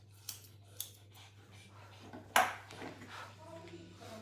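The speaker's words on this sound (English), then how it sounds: "you can take your thinning scissors and just cut the corners to create the shape of a round" Thinning scissors snip through the fur of a plush Pomeranian during grooming, with a few sharp, close metallic clips, the loudest near the end, over a low steady hum and some quiet talk.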